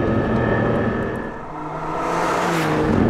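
Maserati MC20 supercar on the move, a steady engine drone with cabin road noise that dips briefly mid-way and then swells back up, heard alone without voices.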